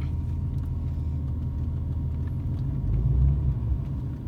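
Car engine pulling away in first gear with the throttle given: a low steady rumble close by that swells louder near the end as the revs build.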